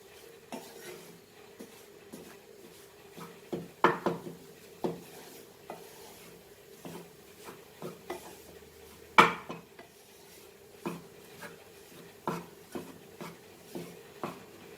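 A utensil stirs a barfi mixture frying in a pan, giving repeated scraping knocks and clinks against the metal at an irregular pace, two louder clanks standing out, with a quiet sizzle underneath.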